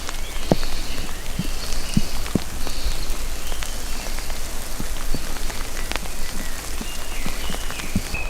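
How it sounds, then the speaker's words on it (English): Rain falls beneath a hazel tree in Borrowdale in the Lake District, a steady close patter with louder individual drops striking leaves and surfaces at irregular moments, with no talk. "even though the rain is starting to come down now"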